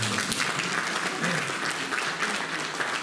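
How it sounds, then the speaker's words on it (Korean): Steady applause from a seminar audience welcoming a presenter at a waste-to-fuel technology briefing, a dense wash of clapping that holds evenly throughout. "큰 박수로 여러분 맞이주시기니다"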